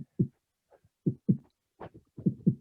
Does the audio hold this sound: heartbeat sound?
yes